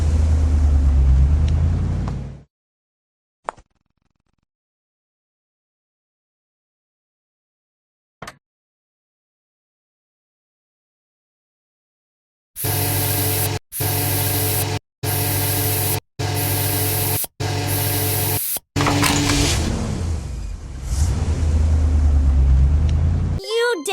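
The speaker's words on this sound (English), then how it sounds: "Fuel the construction vehicle." A construction vehicle is refuelled in a bulldozer mobile game, with a spraying, pumping sound in several short loud bursts, each split by a brief gap, followed by continuous engine rumble and scattered game effects.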